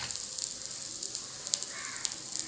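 Mixed dal appe batter sizzles in hot oil in an appe pan, a steady close crackling hiss with small pops scattered throughout and no voices.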